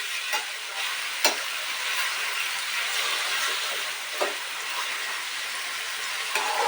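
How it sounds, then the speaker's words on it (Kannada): Oil sizzles steadily in a pan as upma is started, with carrots, beans and fresh peas on the way, and a few sharp clinks from a utensil rise over the even, close frying hiss. "ಸ್ವಲ್ಪ ಫ್ರೈ ಆಗಲಿ ಎಣ್ಣೆಯಲ್ಲಿ."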